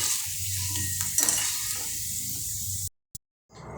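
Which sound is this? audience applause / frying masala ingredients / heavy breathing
frying masala ingredients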